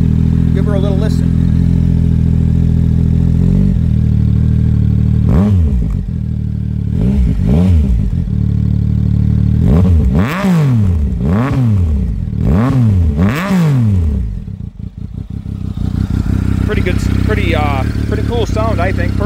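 Triumph Speed Triple 1050 motorcycle fitted with an SC Project exhaust idles loudly up close, with repeated sharp throttle blips rising and falling over the steady rumble.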